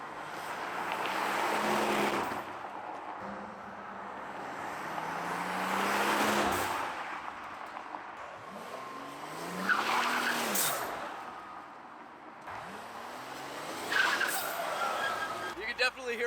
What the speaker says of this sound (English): You can definitely hear a little bit of the blow off there.